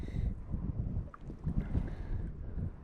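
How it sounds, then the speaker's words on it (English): Wind gusting across an alpine lake in the Indian Peaks Wilderness, a rough low rumble buffeting the microphone alongside small lapping waves, steady and close. "there's some waves right now, and it's kind of windy"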